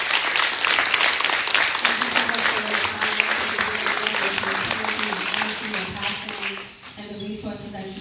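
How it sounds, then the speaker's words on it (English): Audience applause for panelists at a domestic violence awareness event, steady clapping from a gathered crowd that fades out, followed by a voice speaking. "Let's give them a round of applause."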